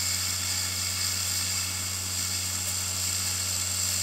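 A small 24V brushed DC motor taken from a forklift runs at roughly 5,000 RPM on a half-wave transformer supply, giving a steady, unbroken high-pitched whine with a low electrical hum underneath.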